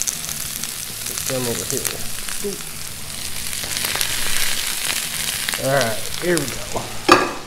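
Serrano peppers fry in hot oil with a steady broadband sizzle and crackle running throughout, while a nearby voice talks briefly over it and utensils clink now and then.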